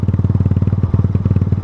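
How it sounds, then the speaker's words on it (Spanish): A Yamaha FZ16 190cc motorcycle accelerating, its engine pulsing in a fast steady firing rhythm, loud and close, with no voices. "La moto dio de vuelta 90 kilómetros por hora."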